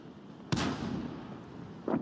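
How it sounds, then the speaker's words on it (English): Two sharp cannon shots from a tank firing HE shells in World of Tanks, each a sudden loud boom followed by a short rumbling tail, spaced about a second and a half apart over low background noise. "Why is he firing HE?"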